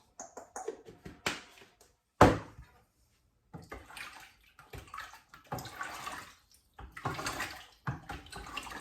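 Running water rinses winemaking equipment for homemade redcurrant wine, coming in irregular splashing bursts with short clattering knocks and quiet gaps, close by and with no talk.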